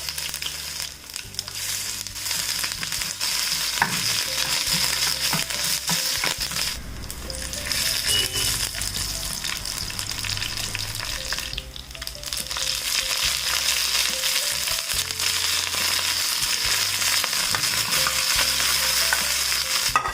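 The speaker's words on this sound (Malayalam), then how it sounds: "ഇതിലേക്ക് ഞാൻ ഒരു ചെറിയ പീസ് ഇഞ്ചി ഇതുപോലെ നീളത്തിൽ കട്ട് ചെയ്തെടുത്തിട്ടുണ്ട്, അതിട്ട് മൂപ്പിച്ചു കൊടുക്കാം." Slices of ginger frying in hot oil with mustard seeds, a dense continuous sizzle with crackles and scraping stirs, heard alone and close.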